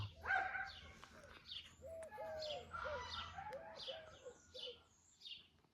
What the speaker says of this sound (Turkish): şu kumru sesi ne kadar güzel ya